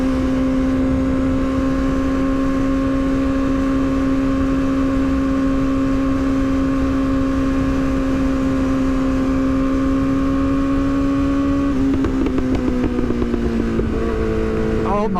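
A Yamaha R6 sport bike cruises on a highway with a steady, loud engine drone whose pitch holds level, then shifts and roughens near the end as the rider changes speed, and no voices are heard.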